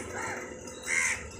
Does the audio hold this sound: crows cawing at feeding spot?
yes